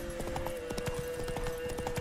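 A ridden horse in The Witcher 3 trots along with steady, rhythmic clip-clop hoofbeats, evenly paced and fairly close throughout.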